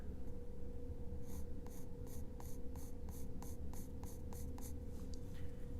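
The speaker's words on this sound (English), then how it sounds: "I'm coloring very lightly" A Prismacolor Color Erase pencil colouring very lightly on paper, a quiet series of about a dozen soft, evenly spaced scratchy strokes over a low steady background hum.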